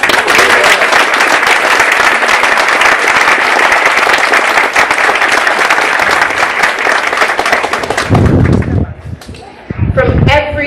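Sustained crowd applause at a Saba Day ceremony fills the hall, loud and dense with many hands clapping, tapering off near the end as a few scattered claps and voices remain.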